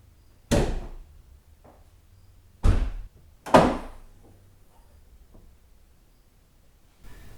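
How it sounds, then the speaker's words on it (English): Hood release and latch clunks on a Jeep Grand Cherokee: three loud, sharp thumps spaced over several seconds, the last followed by a short rattle, with a faint hum in between. "the first thing I want to do is actually pop the hood and remove the fill cap"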